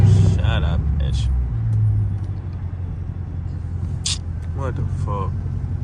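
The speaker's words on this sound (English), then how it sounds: "That's traffic all the way." Late-night downtown Chicago traffic heard from inside a 420hp Dodge R/T, a steady low engine and road rumble with passing vehicles, while voices talk and exclaim over it.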